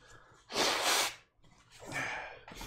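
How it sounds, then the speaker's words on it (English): Two forceful nose blows into a tissue, each a loud breathy burst lasting about half a second, close to the listener, with short breaths around them and no speech. "Blow my nose one more time."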